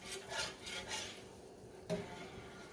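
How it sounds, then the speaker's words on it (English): Spoon stirring sausage gravy in a pan on a gas stove: repeated soft scraping strokes in a steady rhythm, close by, ending with a small clink. "you got to keep stirring and stirring and mixing well"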